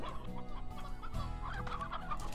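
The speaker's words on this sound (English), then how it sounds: "I have chickens everywhere." Chickens clucking in the video game Slime Rancher, several overlapping bursts of clucks at a moderate level, with a low background hum and no talking.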